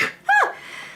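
A single sharp sneeze bursts out close to the mic after a brief breath in, then trails off into quiet room tone.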